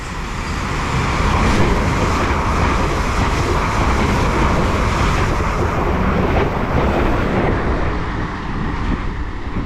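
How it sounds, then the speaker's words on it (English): A London Waterloo to Weymouth passenger train made up of class 444 units rushes past Shawford station platform, a loud, steady rumble and roar of wheels on rail lasting about ten seconds before easing slightly. "we've got a service from Weymouth to, no, London Waterloo to Weymouth"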